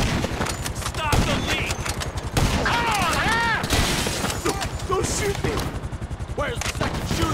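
Rapid bursts of gunfire crackle through a Grand Theft Auto V shootout, dense overlapping shots and automatic fire with booming impacts, while shouting voices talk over the chaos.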